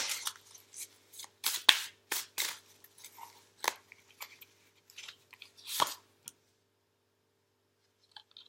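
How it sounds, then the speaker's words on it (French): A card is drawn and handled from a deck, giving a quick run of close crisp snaps, flicks and rustles in irregular bursts that fade into near silence at the end. "On va essayer de retirer une carte."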